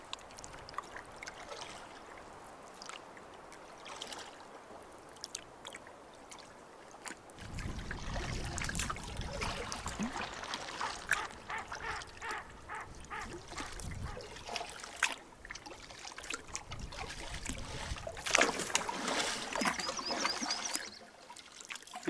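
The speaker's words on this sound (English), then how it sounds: "Been paddling up the creek for a while" Solo canoe paddling up a quiet creek at ice-out, with soft water trickles and strokes at first, then louder splashing and dripping paddle strokes close by, continuing steadily throughout.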